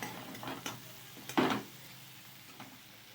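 Spices with chilies, salt and turmeric are stirred in a pan, giving a few faint scraping and clinking strokes, one louder scrape in the middle, over a soft sizzle with no speech.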